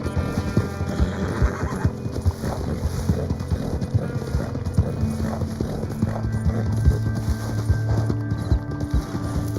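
Horse hooves clip-clop in a steady walking rhythm close by, with a snort or whinny and faint wind in the background.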